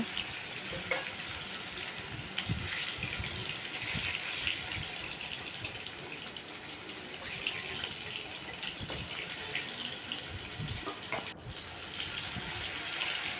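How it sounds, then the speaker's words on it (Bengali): Lote fish muitha, Bengali fish balls, fry in a pan with a soft continuous sizzle and bubbling, faint and steady, with occasional light clinks and no talking. "একটা একটা করে লোটে মাছের মুইঠা এখনও আমি ভেজে নিচ্ছি"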